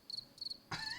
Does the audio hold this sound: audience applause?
no